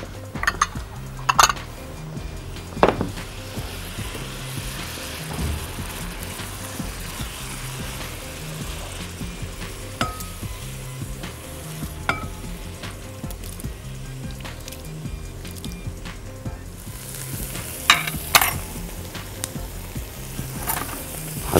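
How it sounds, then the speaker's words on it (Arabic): Onion, garlic and ginger sizzle steadily in a hot pan while being stirred for a shrimp and tomato pasta sauce, with occasional utensil clinks against the pan and no talking. "هديها كده تقليبة مع البصل والثوم والزنجبيل"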